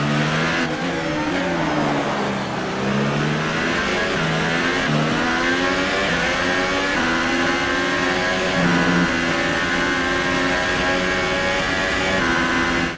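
Formula 1 car engine in the F1 2018 racing video game, a loud continuous high-revving whine climbing and dropping in pitch through gear changes and downshifts, with no talk over it.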